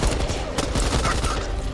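Dense gunfire from the Back 4 Blood video game, a rapid burst of overlapping shots with mechanical clatter running steadily throughout, loud and close.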